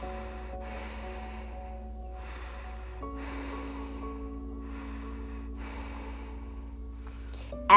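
Slow, deep breathing during a standing yoga session at home: several long, airy inhales and exhales in a steady rhythm, close and soft, over a quiet sustained musical drone.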